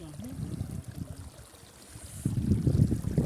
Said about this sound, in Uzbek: Mana soy.